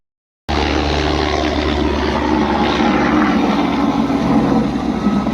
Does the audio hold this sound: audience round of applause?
no